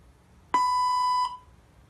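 A translator robot gives a single clear electronic beep, a steady tone lasting under a second against quiet background.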